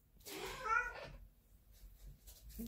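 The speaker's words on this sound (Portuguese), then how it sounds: "E meu gato tá aqui falando." A pet cat lets out one drawn-out, close meow lasting about a second, followed by quiet room tone with faint stirring.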